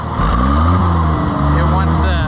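An Oliver 880 tractor engine revving with no choke, loud and close with a steady throbbing roar that rises and wavers, while someone talks over it.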